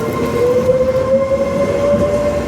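A train rolls steadily past a station platform near Naples, a continuous loud rumble with a sustained whining tone that slowly rises in pitch, no talking.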